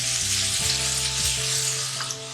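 Garam masala and coriander powder fry in hot oil in a pan for chicken kurma, giving a steady, close sizzle with occasional stirring scrapes and no talking.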